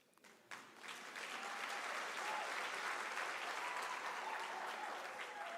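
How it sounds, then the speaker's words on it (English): Sustained applause from a large crowd at a university autumn graduation ceremony, rising sharply after a brief quiet start and holding steady and loud to the end. "I think you need to give him a round of applause."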